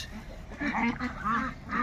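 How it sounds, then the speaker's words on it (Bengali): Pekin ducks on a duck farm give repeated nasal quacks in short overlapping bursts, close and moderately loud, with a faint murmur of the flock beneath. "সবই হলো চায়না পিকিং জাতের হাঁস"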